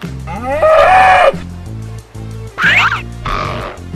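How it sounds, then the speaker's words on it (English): A cartoon cow calls in a children's animal cartoon, giving a long drawn-out moo followed by two shorter bleating cries, loud and close over a steady low musical backing. "Cow."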